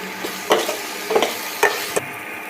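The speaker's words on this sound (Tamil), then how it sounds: "இஞ்சி பூண்டு போட்டு நல்லா வதக்கிக்கலாம்" Ginger garlic paste fries and is stirred in a pan for chicken uppu kari: a soft sizzle with three or four distinct scraping strokes of a spoon, close and clear.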